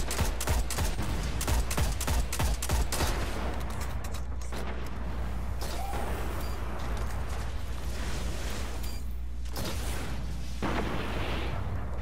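Sniper rifle shots crack through a first-person shooter game amid a loud, continuous barrage of rapid gunfire volleys that barely lets up from start to finish.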